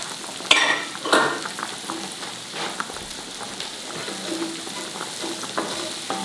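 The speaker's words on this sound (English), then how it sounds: "And you gotta be careful when you cook garlic, because if you cook it too fast, you burn it." Six large garlic cloves fry in a hot skillet with a steady crackling sizzle, broken by a few louder scraping stirs near the start, with no voices over it.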